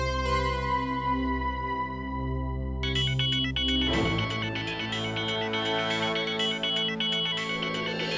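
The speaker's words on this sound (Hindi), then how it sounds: "किसका फोन है?" A phone ringtone plays loud and close, a bright melodic sequence of repeating electronic tones that shifts into a fuller, busier pattern partway through, with no talking.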